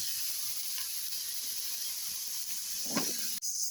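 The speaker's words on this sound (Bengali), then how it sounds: "এটা এখন ভাজা ভাজা করব। এটা কষানো হয়ে গেছে, এখন কেটে রাখা মিষ্টি কুমড়াগুলো দিয়ে দিব।" A pan of cooked-down spices fries steadily for a sweet pumpkin dish, giving a continuous hiss and sizzle with a brief stir-like burst near the end and no talking.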